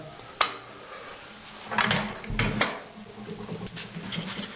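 The upper door of a Feniks C 12 kW solid fuel boiler is handled: a sharp metallic knock, then scraping and clattering as the door is moved, close and fairly loud.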